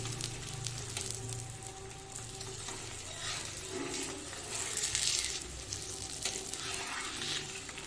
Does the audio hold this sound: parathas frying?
yes